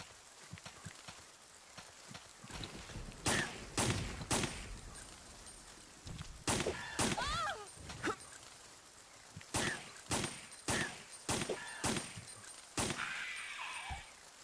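Gunshots from the survival horror game Resident Evil 3 Nemesis, a string of sharp, loud cracks in irregular bursts, some single and some in quick pairs, ringing out over a tense ambient game background.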